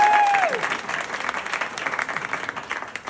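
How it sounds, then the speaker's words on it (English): Wedding guests break into a round of applause, a full room of clapping that starts loud and gradually thins out over a few seconds. "can we do a quick round of applause for Heather Julianne"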